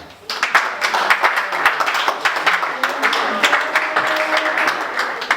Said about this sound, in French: Si nous pouvons aussi applaudir pour nous-mêmes